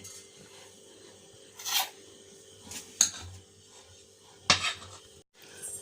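Cake batter for an oven-free, beater-free marble cake is scooped and scraped from one bowl into another, giving a few sharp utensil clinks and scrapes against a quiet kitchen background.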